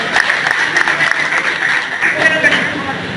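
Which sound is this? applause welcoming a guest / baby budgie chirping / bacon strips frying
applause welcoming a guest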